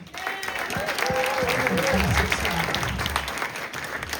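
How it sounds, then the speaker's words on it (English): Comedy-show audience applauding the restaurant staff: steady, full crowd clapping that builds and holds, with a voice and some low rumble underneath. "How about a round of applause for your staff here tonight?"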